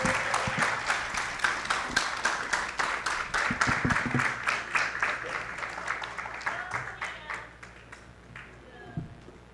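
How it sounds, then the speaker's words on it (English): Applause at a high school graduation ceremony, a crowd clapping steadily for several seconds in a large hall, then fading out toward the end. "Let's give them another round of applause"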